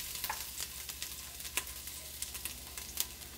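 Garlic sizzling in hot olive oil in a pan, a steady close fry hiss with occasional stirring scrapes, no voices.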